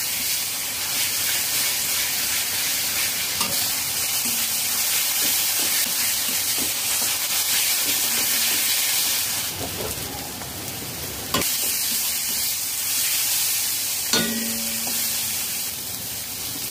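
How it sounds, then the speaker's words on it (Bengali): Onions and spice paste stirred and fried in a pan for a prawn malai curry, a continuous hissing sizzle with scattered scraping stir strokes and occasional louder bursts of frying. "মশলা 5 মিনিট নাড়াচাড়া করে কষিয়ে নিয়েছি।"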